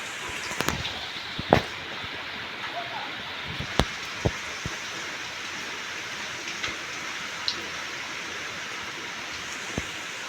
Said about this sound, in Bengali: এবার একে একে বড়াগুলো তেলে ভাজতে দেবো।